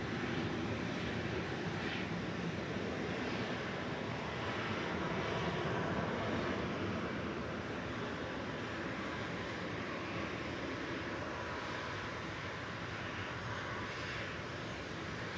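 EasyJet airliner holding and lining up for departure at Manchester Airport, bound for Mykonos, a steady distant engine roar and rumble that holds evenly throughout at low level, with no voices.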